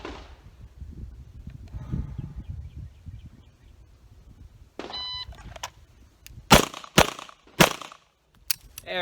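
Sharp pistol shots from an M9 on an outdoor shooting range during a qualification course, a few close loud reports cracking in a quick string after a quieter stretch of low rumbling background.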